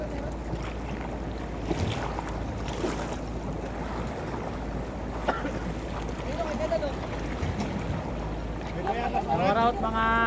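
Strong river current rushing past a small boat on a river in Cabangan, a steady broad wash of water close by with splashes, while people talk and shout over it.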